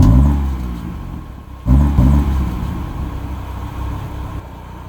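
A 2022 Audi RS3 engine rumbles close by with a deep, throaty idle, surging up in a quick rev partway through before settling back into a steady low growl.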